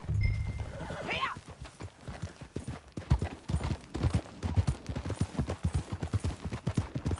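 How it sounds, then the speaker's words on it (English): A horse in the video game Red Dead Redemption 2 whinnies near the start, then a steady, rhythmic clip-clop of hooves continues up close throughout. "That a new horse?"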